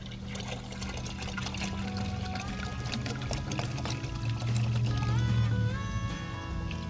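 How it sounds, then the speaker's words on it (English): Liquid fertilizer mixture glugs from a jug into a watering can, a steady close pour with trickling and splashing that rises in pitch as the can fills, no voices. "I'll pour that in the watering can too."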